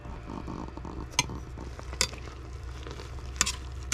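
Chopped red pepper, green pepper, onion and celery cooking in a pot give a steady soft sizzle. A few sharp clinks of a utensil against the pot cut through it.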